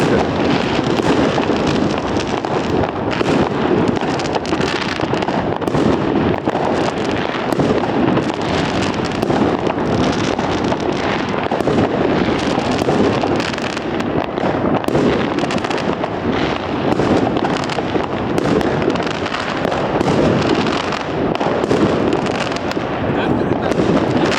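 New Year fireworks burst in a dense, unbroken barrage over Stogi in Gdańsk, loud and close, with crackles and bangs overlapping throughout while people talk and shout in the crowd.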